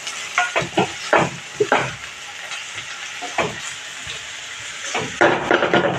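Onion frying and being stirred in a pan for a gawar (cluster bean) bhaji, with steady sizzling broken by repeated scraping stirs spread across the clip, close and fairly loud.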